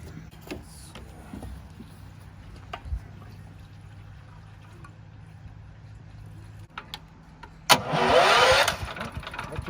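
A Kubota lawn tractor engine cranks on its electric starter at about 7.7 seconds, a loud burst of churning mechanical noise after a long quiet stretch with faint background activity.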